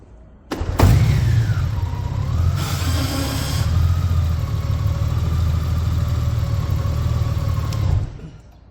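Honda Gold Wing DCT motorcycle engine started and left idling, a steady low rumble held evenly for several seconds close by before cutting off.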